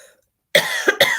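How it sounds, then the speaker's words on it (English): A person coughing, two quick loud close coughs after a brief silence, a raspy throat-clearing quality to them. "I just keep coughing"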